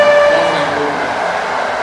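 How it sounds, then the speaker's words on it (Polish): A train passes close and loud at a Polish station, sounding a brief horn tone at the start over a continuous rumbling rush of the cars, with no speech. "i leci pociąg."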